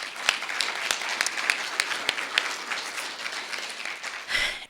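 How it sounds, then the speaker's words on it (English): Applause from an audience at a member luncheon welcoming new business partners, a moderate patter of clapping with scattered sharper claps, fading near the end. "Please give all of them a round of applause."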